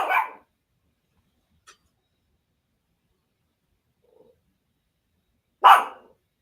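A dog barks twice, a sharp near bark at the start and another after a long pause, with only tiny faint ticks in the quiet between.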